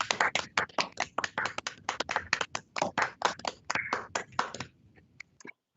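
A scattered handful of individual hand claps from judges on an appellate court live stream welcoming new lawyers, with irregular, uneven claps heard over microphones that taper off and stop near the end.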